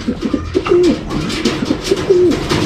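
A racing pigeon cooing close by, with two drawn-out, throaty coos plus shorter soft calls, loud and clear over a gentle outdoor background.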